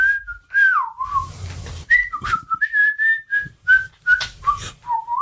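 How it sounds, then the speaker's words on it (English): A person whistles a cheerful, jovial tune while walking, the melody rising and falling in a lively run of short and held notes, close and clear with faint footstep noise underneath. "Can I whistle as I walk?"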